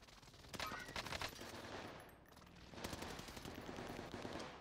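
Type 100 submachine gun in a video game fires two rapid bursts, one short and one longer, with a brief pause between, close and fairly loud.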